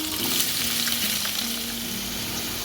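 Potatoes fry in hot oil in a pan, giving a steady, close sizzle with faint stirring scrapes, continuous and even with no talking.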